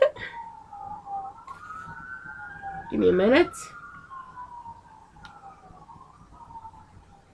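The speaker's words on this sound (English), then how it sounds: "Yeah, I know, stupid sirens." Wailing emergency sirens pass outside, a long rising and falling tone sweeping through the whole stretch and peaking in a loud yelping burst partway through, while a person talks indoors over it.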